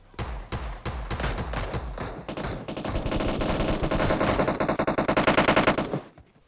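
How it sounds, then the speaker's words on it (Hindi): Rapid automatic gunfire in the PUBG Mobile battle royale game, long bursts of sharp, closely spaced shots that build in intensity before cutting off abruptly near the end. "अब गोलियां इधर तोड़ फोड़ के चल रही है"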